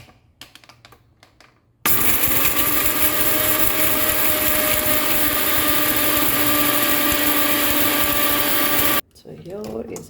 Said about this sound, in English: So let's grind this to a fine powder for our 1 kg of meat.